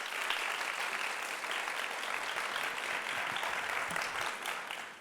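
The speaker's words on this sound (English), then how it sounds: "please clap" Audience members at a New York Times debate clap to cast their vote, producing a steady, fairly distant wash of applause that holds evenly before fading away.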